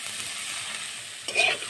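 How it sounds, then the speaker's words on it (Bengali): Cauliflower frying in oil in a pan for a home-style Bengali catla fish curry gives a steady, close sizzle, with a brief louder burst of crackling near the end. "ফুলকপিটা আমার ভাজা হয়ে গেছে,"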